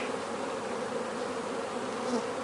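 Honeybees hum in a steady, dense drone at an open hive that has grown since early winter, close and continuous with no talk.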